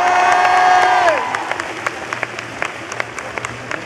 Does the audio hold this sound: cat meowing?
no